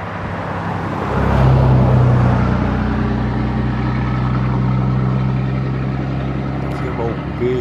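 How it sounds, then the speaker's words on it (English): A car rolls in and settles into a steady idle outdoors beside a nut tree, its low engine rumble building after the first second and holding fairly loud and close to the end. "A car coming in."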